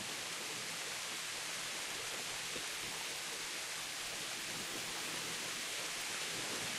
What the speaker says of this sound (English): Alright, so it's raining.